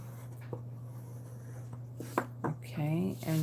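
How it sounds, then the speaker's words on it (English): A paper card base is folded and then burnished, giving soft scattered scraping and rubbing strokes over a low steady hum, followed by a voice speaking near the end. "So I will start with folding and burnishing this card"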